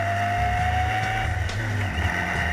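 A motorcycle engine held at steady revs by the throttle, a continuous even droning hum with slight fluctuations, close and fairly loud with no talk.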